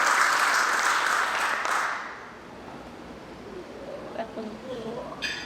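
A church congregation breaks into dense applause for about two seconds, then the clapping thins and fades beneath a voice speaking in the room.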